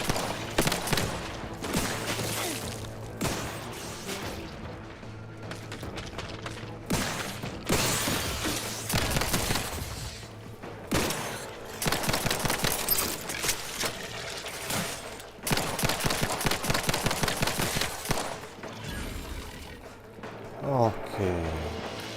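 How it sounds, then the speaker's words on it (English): Gunfire in The Outer Worlds 2 video game, dense bursts of shots and sharp cracks mixed with mechanical clatter, running through most of the stretch under a player's talk. "Who is shooting at me?"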